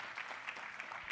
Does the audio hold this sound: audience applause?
yes